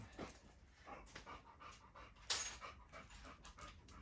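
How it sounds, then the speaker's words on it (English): A dog pants heavily close by in quick, rhythmic breaths, with a brief sharper snort partway through. "All this heavy breathing on the video, Chicky, might be a little off-putting."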